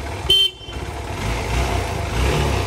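A short, sharp second-hand motorcycle horn beep sounds once, followed by the engine idling steadily nearby.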